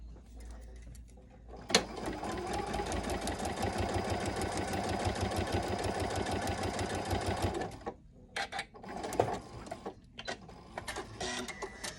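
A sewing machine stitches a quilt block seam in a busy, steady mechanical whir that runs for several seconds, then stops and restarts in short bursts, close and fairly loud with no talk over it.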